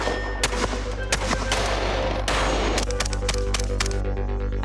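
Sharp gunshots during firearms training at the SIG Sauer Academy, a loose burst of closely spaced shots followed by a faster string, loud and close over a steady range background hum.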